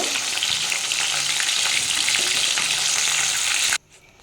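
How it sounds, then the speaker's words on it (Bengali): A fish head fries in hot oil for a Bengali chochhori with pui stems, giving a loud, steady, continuous sizzle that cuts off abruptly near the end. "আমার মাছের মাথাটা ভাজা হয়ে এসছে"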